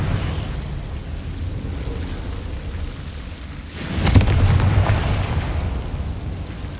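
A sudden fiery blast from the Confringo spell in Hogwarts Legacy erupts after a quiet, rumbling stretch, followed by a lingering crackling roar that fades slowly.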